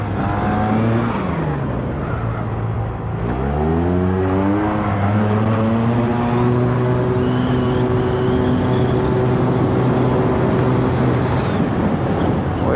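Yamaha TMAX turbo scooter engine while riding, a loud close droning roar that dips, then climbs steadily in pitch under acceleration with wind noise throughout.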